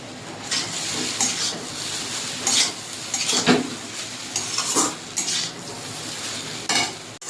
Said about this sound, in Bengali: ভেজে রাখা পনিরের টুকরোগুলো দিয়ে দেবো।